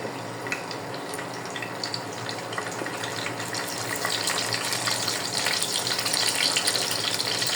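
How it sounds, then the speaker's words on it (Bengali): Gourd leaf fritters with dried fish fry in hot oil, giving a steady crackling sizzle that builds slightly louder over several seconds, close by and with no talking. "তেলটা গরম হয়ে গিয়েছে, এক এক করে বড়াগুলো আমি দিয়ে দেব।"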